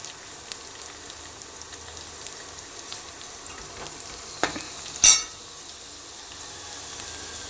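Cloves, cardamom and cinnamon crackle and sizzle in hot oil in a pan. A steady frying hiss carries quiet stirring scrapes, with a sharp clink near the end.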